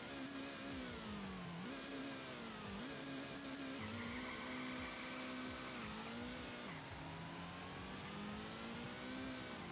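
A tuned Subaru BRZ race car in the Nitro Nation drag racing game revs hard and accelerates steadily, its engine note climbing and dropping through gear shifts, loud and continuous with no talking.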